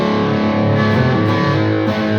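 An electric guitar plays through a Bogner Helios 100W amp head set to 80s mode on the Plexi input, giving a loud, continuous overdriven tone with ringing sustained chords and no talking.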